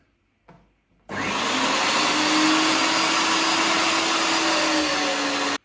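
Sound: meat grinder mincing pork neck through 7 mm plate

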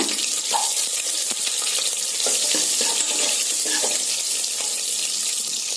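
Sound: sautéing shallots, garlic, red chili and curry leaves in oil

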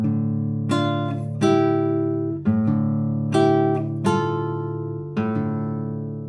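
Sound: classical guitar playing thirds over open bass notes

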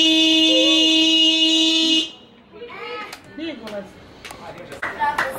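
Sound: car horn honking

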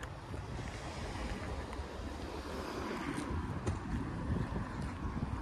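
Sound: wind blowing outdoors

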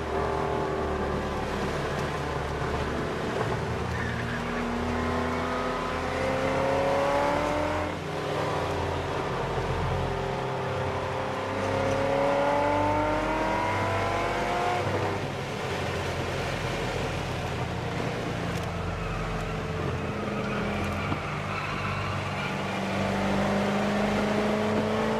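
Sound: car driving a lap around a road racing track

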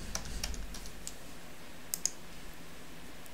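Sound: typing a security code on a computer keyboard

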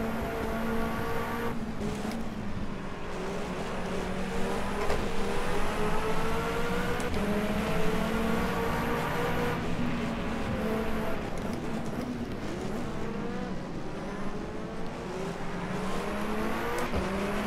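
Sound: sports car racing engines, rFactor 2 video game

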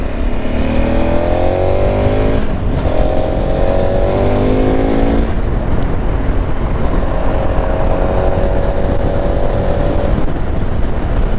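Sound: KTM Super Adventure 1290 motorcycle accelerating on dual carriageway

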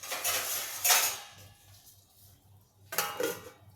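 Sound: placing a lid on a cooking pan

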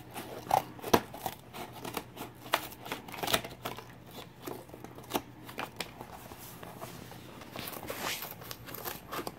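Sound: trimming packing material with scissors while packing a mug

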